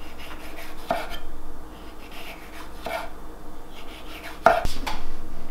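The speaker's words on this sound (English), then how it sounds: "Next, we're gonna thinly slice some jalapeno." Sharp knife slicing jalapeno thinly on a cutting board, with a few crisp cuts standing out near 1 second and a sharper knock around 4.5 seconds over a low, steady background.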